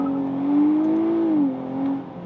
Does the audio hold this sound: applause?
no